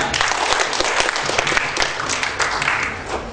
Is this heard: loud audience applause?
yes